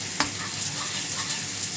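Garlic fries in a pan with a loud, close, continuous sizzle and crackle. One brief sharp tick stands out early on, and no one speaks.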